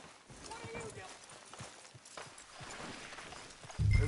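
Horse hooves clip-clop at a slow walk in Red Dead Redemption 2, a soft regular beat of hoofbeats beneath characters talking, followed by a louder thud at the end.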